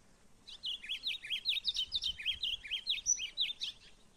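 A golinha seedeater calls repeatedly near a trap cage outdoors, its bright, quick chirps and trills running in a steady string of short notes at close range, with no one talking.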